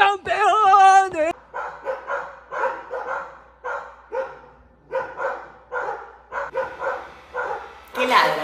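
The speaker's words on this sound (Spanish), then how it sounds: "¿Qué ladran, che?" Dogs bark repeatedly in a steady series of sharp, close barks spaced about half a second apart, following a brief high-pitched voice at the start.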